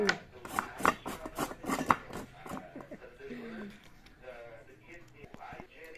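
Ampalaya and carrots grated by hand for a salad, giving a series of scraping, rasping strokes up close, with someone talking over and after them.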